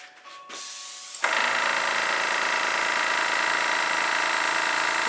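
An airbrush sprays acrylic paint close by: after a short quiet start, a steady, loud, broadband hiss runs without a break to the end.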